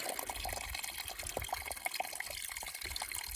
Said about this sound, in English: Look at how lively the water is here.